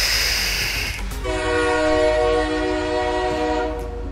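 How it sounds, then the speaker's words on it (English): Drawing air through an Osiris RTA vape tank starts as a breathy rush, then turns into a steady, loud whistling tone for about three seconds before easing off. "But the airflow is just like..."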